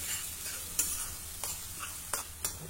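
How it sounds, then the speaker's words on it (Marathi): Coriander, cumin, ginger, garlic and green chili sautéing in hot oil, a steady soft sizzle with a few sharp scrapes of a spoon stirring, close and alone without talk. "धणे, जिरे, आलं, लसूण, मिरची सर्वच आपण इथे कच्चच वापरलं आहे, त्यामुळे तेलामध्ये असं हे थोडं परतून घ्या"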